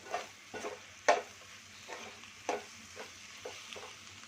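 A spoon stirs drumstick leaves and egg stir-fry in a pan, a soft, close series of scraping strokes about every half second over a faint steady sizzle.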